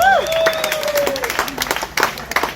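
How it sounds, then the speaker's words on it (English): A crowd at a comedy roast battle event claps and cheers for the first roaster, with uneven scattered claps and whoops mixed with a voice, plus a few sliding whistle-like tones early on. "give our first roaster a round of applause"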